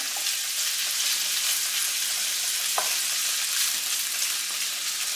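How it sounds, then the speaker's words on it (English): Sausage and egg omelette frying in olive oil on high heat, a steady close hiss of sizzling fat that stays even throughout with one brief clink partway, no voices. "I know it's frying quickly"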